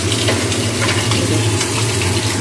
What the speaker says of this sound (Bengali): 4টে মাছ, মাছটা ভেজে নিচ্ছি